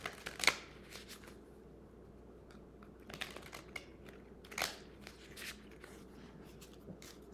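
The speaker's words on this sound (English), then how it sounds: "Let's shuffle and see what we have about it." A deck of cards is shuffled by hand in a quiet room, with sharp riffling bursts at the start and midway and softer flicks and taps between them.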